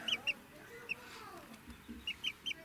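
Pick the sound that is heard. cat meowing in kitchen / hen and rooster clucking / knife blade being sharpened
hen and rooster clucking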